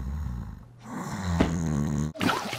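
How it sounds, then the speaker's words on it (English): A man snores in an earplug advert, giving one long rasping snore followed by a snorting breath, loud and close, with no other voices. "puts up with her snoring husband"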